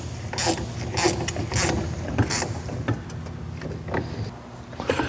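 A T40 Torx bit drives bolts while a Traxion 2-700 Pro Gear creeper seat is put together, a run of close, short mechanical clicks and ratcheting bursts in an uneven rhythm with brief pauses.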